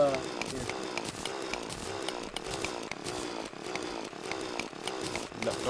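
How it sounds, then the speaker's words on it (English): A chainsaw revving and buzzing steadily in the Trouble in Terrorist Town game, a dense mechanical drone with rhythmic surges that runs unbroken beneath several players talking over voice chat. "Dude, it's my chainsaw."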